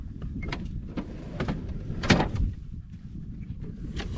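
Drawers in a camper kitchen fitted to a Jeep overlanding sleeper setup slide and knock in a series of short close clunks and rattles, one louder sliding thump midway, with no talk.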